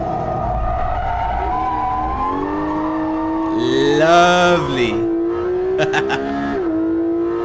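Porsche GT3 RS drifting through a corner in a racing simulation, its engine note climbing and falling through rev changes with a brief tyre squeal, and a voice makes a short remark near the end.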